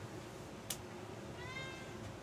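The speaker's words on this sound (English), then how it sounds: "Modi, only dumb cats meow, buddy." A house cat gives one drawn-out, wavering meow close by, late in the clip, after a brief sharp click, over a low steady room hum.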